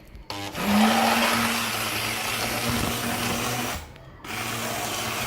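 A hand blender whirs loudly and steadily for several seconds blending cooked lentils, cuts out briefly, then starts again.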